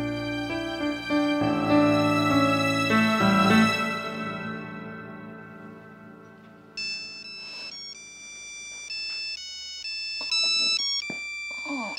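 A phone ringtone plays a repeating electronic melody, loud and close, after a stretch of sustained musical tones.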